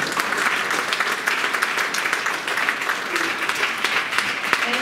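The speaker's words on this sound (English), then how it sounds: "That's a good place to just clap and give God." A church congregation breaks into clapping, a continuous wash of many hands with scattered sharper claps and faint voices mixed in, holding steady throughout.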